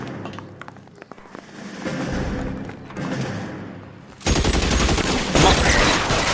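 Rapid bursts of gunfire from a police shootout in L.A. Noire, scattered shots and thumps early, then a dense, loud volley erupting in the final seconds.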